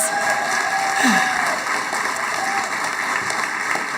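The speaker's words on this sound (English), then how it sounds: "let's just get one more round of applause for all our graduates" A commencement audience applauds graduates at a spring graduate ceremony: dense, steady crowd clapping carries throughout at an even level, with a few faint voices in the hall.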